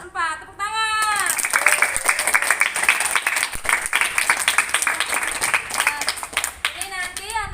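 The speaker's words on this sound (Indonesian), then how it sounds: "Tepuk tangan." Fourth-grade schoolchildren in a classroom clap together in a dense burst of applause lasting several seconds, with a voice heard before and after it.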